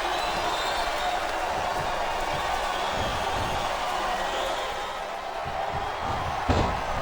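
Arena crowd noise from a WWE SmackDown vs Raw 2008 wrestling video game, CM Punk versus Umaga: a steady, dense roar of cheering fans holding level throughout, with a brief louder slam-like thump near the end.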